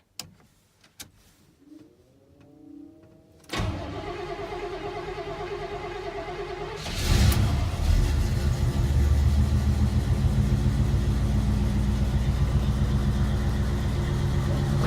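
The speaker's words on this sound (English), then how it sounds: "Set the choke one time, turn the key, let's see what we got." A 1983 Chevrolet K20 truck with a cammed 305 engine cold starts after faint clicks and a brief cranking whir, catching loudly with a burst, then settling into a heavy, lumpy idle that rises once and keeps a choppy rhythm, close and alone.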